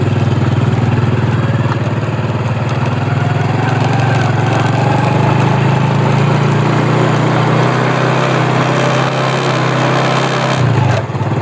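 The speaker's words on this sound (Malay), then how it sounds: "Kita naik motor lah" A motorcycle engine runs steadily and loudly up close throughout, with a constant low rumble on an old hill road at Bukit Putus, Kuala Pilah, shifting slightly near the end.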